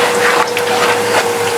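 Water poured or gushing into a pot of Guyanese catfish curry, a steady close rushing flow that lasts throughout with no voices over it.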